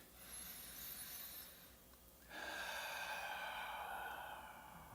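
A person breathing slowly and evenly, with a soft hissing inhale, a pause near the midpoint, then a longer, louder airy exhale, heard close up and alone without talk.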